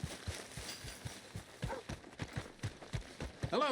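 Horse hooves in Red Dead Redemption 2 clip-clop in a steady trotting rhythm, fairly soft, with a brief whinny-like sound at the end.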